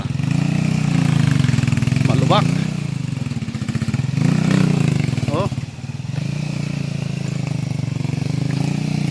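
A motorcycle engine labors along a rough, rocky mountain trail on the way to a waterfall, a steady close drone that surges and strains, with people talking over it.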